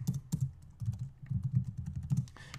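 Keys clack on a Mac computer keyboard in quick, uneven bursts of close typing, with short pauses between runs of keystrokes and no voices.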